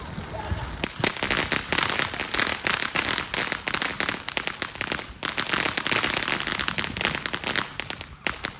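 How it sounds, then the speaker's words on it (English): Fireworks and firecrackers at a Fourth of July neighborhood celebration crackle and pop in a dense, continuous rattle of rapid bangs, loud and steady throughout. "Fireworks."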